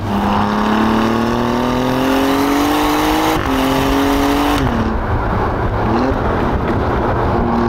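An Alfa Romeo Giulia Quadrifoglio in dynamic mode revs hard and climbs in pitch through the gears, a loud continuous roar heard up close with brief dips at each shift.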